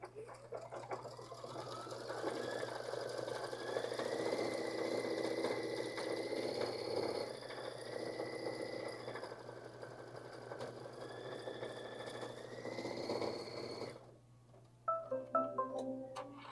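A sewing machine stitches fabric with a steady, continuous whirring hum, close and moderately loud, slowing and stopping near the end before a few scattered clicks.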